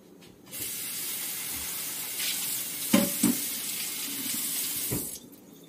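Cheese melting in a pan on the stove gives a steady, soft sizzling hiss that holds for several seconds, with a couple of brief clinks or stirring knocks partway through and near the end.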